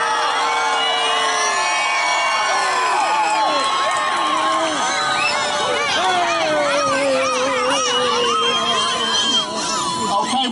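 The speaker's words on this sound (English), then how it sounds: "So can we cheer loud, really loud, so they can probably hear us as they clean up the Kris Kringle Market?" A large crowd cheers and whoops loudly at an outdoor Christmas tree lighting, a dense, sustained swell of many shouting and squealing voices, including children, close by.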